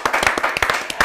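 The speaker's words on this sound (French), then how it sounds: "Ça s'applaudit." Brief burst of audience clapping, a quick run of sharp, close hand claps lasting about a second.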